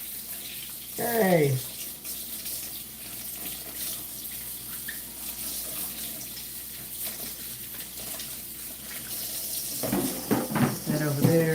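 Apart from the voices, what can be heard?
tap water running while washing celery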